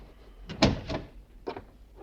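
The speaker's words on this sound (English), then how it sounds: "Close the door." A door is shut in a quiet room in a 1949 radio drama, heard as a few close wooden knocks and a latch click spread over about two seconds, with no talk over it.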